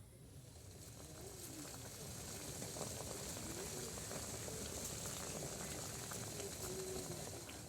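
Pieces of ash gourd boiling in a pot of water, a steady close bubbling and rolling that swells in over the first couple of seconds and then holds, with faint pigeon-like cooing nearby.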